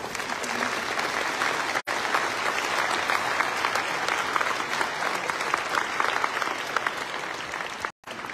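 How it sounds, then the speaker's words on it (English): Sustained, dense applause from a large audience at an awards ceremony for outstanding Cambridge learners, steady and even throughout with two brief cuts to silence. "Big round of applause to all our prisoners."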